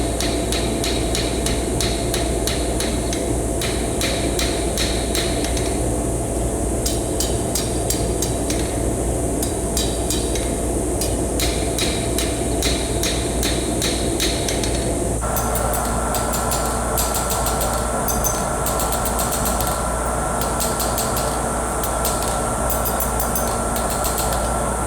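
A forging hammer pounds stainless steel for utensils in rapid, steady repeated strikes over a constant mechanical drone, the rhythm shifting partway through.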